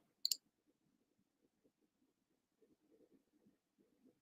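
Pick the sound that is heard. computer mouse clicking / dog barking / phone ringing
computer mouse clicking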